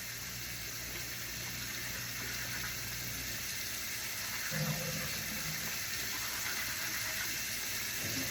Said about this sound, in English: then you turn the water on like this